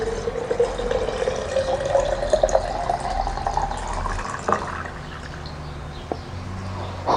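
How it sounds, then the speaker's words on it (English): Fresh coconut water is poured into a strawberry orange juice mix. A gurgling stream rises steadily in pitch as the container fills, then gives way to quieter splashes and a few small knocks. "now we add our fresh coconut water to the strawberry orange mix"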